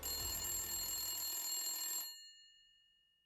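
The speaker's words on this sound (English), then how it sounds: "A phone call." Telephone bell ringing loudly and steadily for about two seconds, then stopping abruptly and ringing out into silence.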